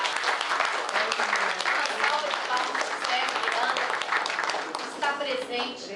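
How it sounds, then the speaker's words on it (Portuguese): An audience at a lecture on the public debt system breaks into steady applause, a sustained crowd of clapping hands with some voices mixed in, tapering near the end. "Uma salva de palmas para o Sérgio Miranda"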